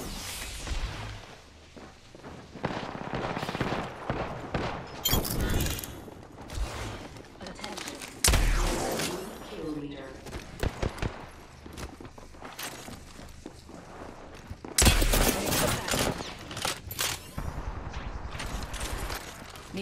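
Video game gunfire fills a shooter match: bursts of rapid shots and sharp single cracks come in clusters with loud spikes, mixed with footsteps and mechanical clatter, dense and close throughout.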